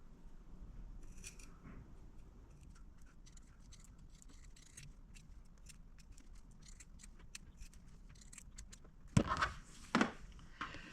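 Scissors snip through the fabric seam of a fruit-themed grape potholder in quiet, irregular clicks, followed by a couple of louder handling knocks near the end.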